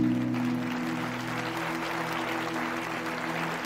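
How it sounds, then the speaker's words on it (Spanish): Church congregation applauding together, a steady broad wash of clapping that holds at an even level throughout, with a sustained low musical hum running underneath. "dar un aplauso al Señor."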